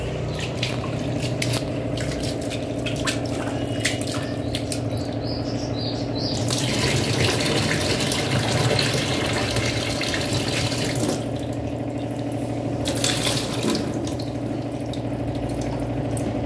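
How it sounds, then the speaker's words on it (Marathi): Running filtered water splashes steadily for a long stretch, with shifting wet rustles as leafy vegetables are rinsed under the stream, over a constant hum. "आता मी या भाजीला फिल्टरच्या पाण्याने धुत आहे तिसऱ्यांदा"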